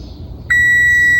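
An oven timer goes off while banana bread bakes, a sudden loud, steady electronic beep tone cutting in after a brief quiet kitchen hum.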